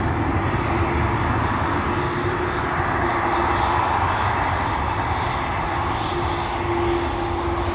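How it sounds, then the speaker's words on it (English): A Croatia Airlines Airbus A220 jet departs, its engines producing a steady, distant broadband roar with no voices. "We have an A220 already lining up Croatia Airlines."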